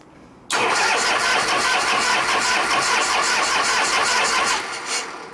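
A 1973 Harley-Davidson FX Super Glide with a 74ci Shovelhead engine fires abruptly after a kick start and runs loud and rough, with a rapid uneven beat, before dipping slightly near the end.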